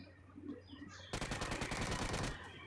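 Rapid bursts of Mk14 rifle fire crack out in a video game, a dense run of shots lasting over a second after quieter game ambience, loud and close.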